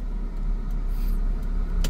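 A car turns in second gear with the clutch fully pressed, its engine a low steady idle rumble heard from inside the cabin, with faint small clicks and rattles.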